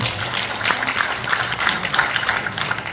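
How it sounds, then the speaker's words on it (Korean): An audience claps steadily and warmly at an academic seminar on the 42-year history of Kim Sira's Pumba performance, a dense, even applause filling the hall for a few seconds. "박수 부탁드리겠습니다"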